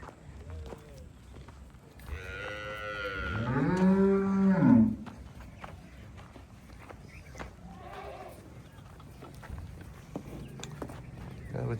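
A calf moos close by, one long drawn-out low call rising and falling, with scattered footsteps and farmyard shuffling around it and a fainter second call later.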